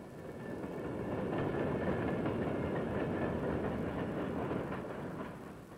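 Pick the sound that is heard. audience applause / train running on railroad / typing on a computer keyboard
train running on railroad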